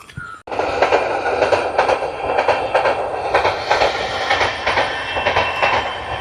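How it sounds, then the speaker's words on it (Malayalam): A train rumbles past close by along paddy fields in rural Piravam, Kerala, loud and continuous, with rhythmic clickety-clack of wheels over the rails. "ഈ പാടവരമ്പത്തൂടി ഈ ട്രെയിൻ പോകുന്ന ഒരു കാഴ്ച ഗംഭീരമാട്ടോ"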